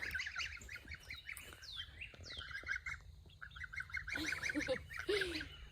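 Geese honk and squawk in a garden, repeated nasal calls in quick bursts close by, some squeaky and rising, with other birds chirping and twittering in the background.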